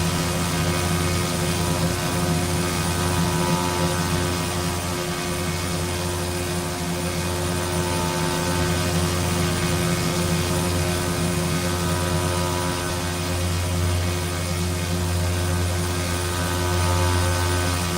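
Carenado King Air aircraft engines droning inside X-Plane, a loud, constant turboprop hum and roar that holds steady throughout with no voices.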